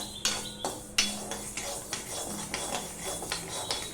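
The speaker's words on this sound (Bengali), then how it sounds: "দিয়ে এবার সমানে নাড়তে থাকবো। যতটুকু ভাজা ইনকমপ্লিট রয়েছে এই গরম কড়াইতে ভাজা হয়ে যাবে" Spatula scraping and clinking against a hot wok as fried banana stem is stirred, with repeated sharp metallic taps and scrapes at an even pace, close by and without talk.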